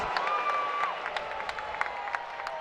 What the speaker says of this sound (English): the crowd is getting into it definitely